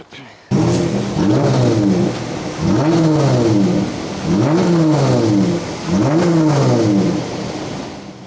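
A two-litre naturally aspirated European car engine revs hard in four repeated bursts, each rising and falling in pitch with short idle dips between, loud and close.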